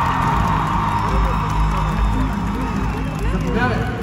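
Studio audience cheering and clapping for a finalist in a Bulgarian reality-show house final, a dense steady crowd roar with whoops, mixed with overlapping talk throughout.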